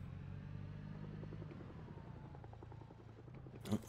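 A helicopter in the game Project Zomboid drones overhead with a steady, rhythmic rotor thump and engine hum, moderately loud and continuous, ending with a brief clatter.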